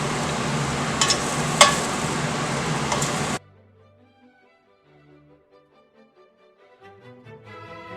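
Roasted beef bones sizzling and frying in a shaken pan, a loud crackling hiss with a few sharp clatters over about three seconds, then cutting out abruptly to near silence.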